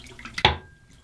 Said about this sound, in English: Pour out the water.